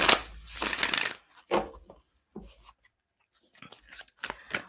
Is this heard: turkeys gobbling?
no